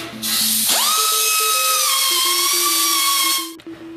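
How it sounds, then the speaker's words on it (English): A power tool deburrs the freshly cut edges of a steel motorcycle neck rake kit for a Harley bagger, giving a close, loud, high whine that spins up, holds steady for about three seconds and cuts off. "Now let's deburr the edges and check for fitness."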